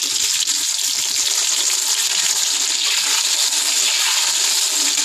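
Tomatoes sautéing in hot oil in a pan for a brinjal gravy give a steady, bright sizzle that runs unbroken and fairly loud throughout, with no talking.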